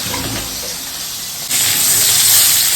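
Fish rubbed with salt and turmeric sizzles in very hot oil in a wok. The loud, steady hiss jumps sharply halfway through and carries on strongly. No speech is heard.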